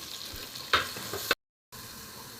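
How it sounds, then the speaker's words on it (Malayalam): Ginger and garlic fry in a pan for a beef curry, giving a soft, steady sizzle with a couple of brief stirring scrapes. The sound cuts to silence briefly and then the quiet frying returns. "ഇഞ്ചി വെളുത്തുള്ളി മൂത്ത് തുടങ്ങി"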